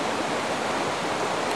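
Mountain brook beside a hiking trail rushing over rocks, a steady broadband wash of flowing water, close and constant, with no voices.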